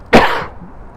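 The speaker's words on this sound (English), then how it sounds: "Sorry, I gotta clear my throat." One loud, close throat-clear, a quick raspy burst that fades over about a third of a second into quiet.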